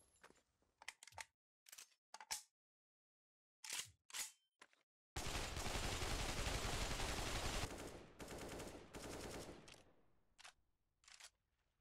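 An AK-47 in the shooter game Pavlov or CSGO: several sharp single shots, then a long sustained automatic burst, fairly faint overall.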